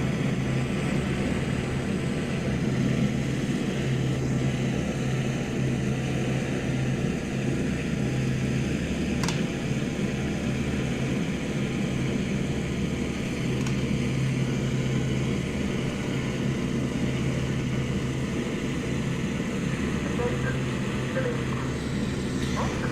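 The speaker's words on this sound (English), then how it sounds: "Saw Anonymous fly by in his P-40." A P-40 fighter plane in a 1941 flight combat game drones steadily with a loud propeller-engine hum that holds throughout, without a distinct rise or fall of a pass.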